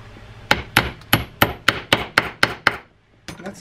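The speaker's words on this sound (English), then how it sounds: "That's a dead blow hammer so that I don't mar any of the metal surfaces that go along with this." A dead blow hammer taps a pin into a Penn Senator 6/0 fishing reel, giving about nine crisp, evenly spaced knocks up close, a short pause, then a few lighter taps.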